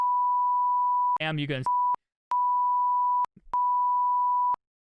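A GoXLR streaming mixer's censor beep sounds as steady pure tones, switched on and off in several long bursts with brief gaps, and one short stretch of a voice breaks in between.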